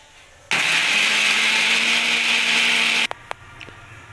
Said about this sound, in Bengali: এগুলোকে আমি একটা মিক্সিং জারে পেস্ট করে নেব।